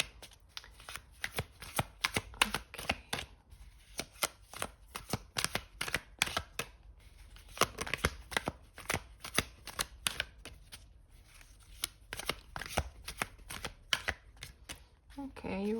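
A deck of tarot cards being shuffled, rapid riffling and slapping bursts in quick uneven rhythm, close and continuous, with a few brief voice sounds in between.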